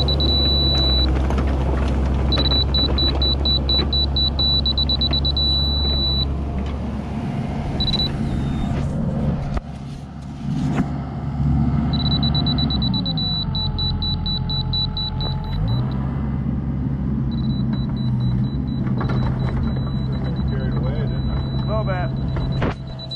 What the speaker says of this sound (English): that beeping noise is the tester.